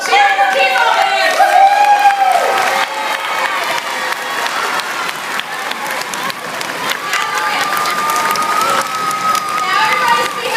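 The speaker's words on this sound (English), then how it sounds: "Cheer for Chemo Man!" A crowd cheering and clapping, loud at first and then settling into sustained applause and shouts, with excited voices and children among them.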